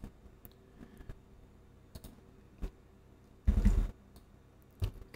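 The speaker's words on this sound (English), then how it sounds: "I use the bracket keys on my keyboard to change the brush size" Scattered clicks of bracket keys pressed on a computer keyboard while adjusting brush size in photo editing, sparse taps with one louder cluster of rattling keystrokes, close and quiet with no talking.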